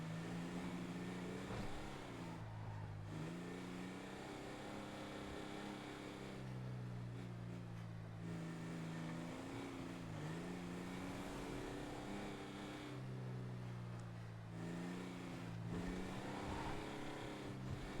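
Muscle car engine in a racing video game, revving in repeated waves that climb and drop every few seconds, held fairly quiet and continuous throughout.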